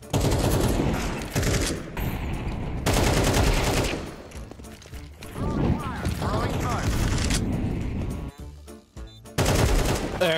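Rapid bursts of gunfire from Counter-Strike 2, loud and close, recurring in stretches with brief pauses and dense mechanical clatter throughout.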